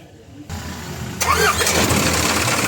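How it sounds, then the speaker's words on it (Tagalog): An Isuzu Elf truck engine cranks briefly and catches, then settles into a loud, steady diesel idle close by. "pina-start ko itong makina"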